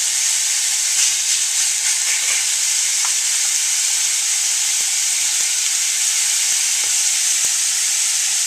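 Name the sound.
thin beef strips frying in a pan for stroganoff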